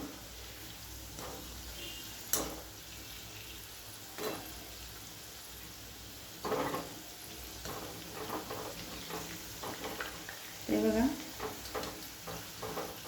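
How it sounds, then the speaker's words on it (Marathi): Wheat flour modaks fry in oil over a low flame, producing a soft, steady bubbling hiss under intermittent spoon scrapes and clinks, with someone talking faintly at times. "कमी गॅसवरच आपण हे असे खालून देऊया म्हणजे छान असे आपले सर्व बाजूने मोदक तळून येतील"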